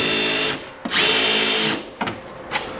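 A power drill drives screws into a timber shed frame as temporary tacking, with two loud close whirring bursts, the second longer, separated by a short pause and followed by brief clunks.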